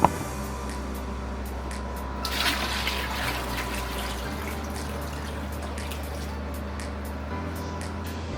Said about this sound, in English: fill up the 13-gallon reservoir with the RO water